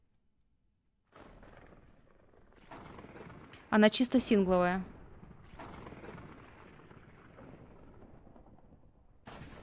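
A thunder crack during a lightning storm in modded Minecraft (Project Ozone 3): one loud, rumbling burst in the middle, with people talking before and after it.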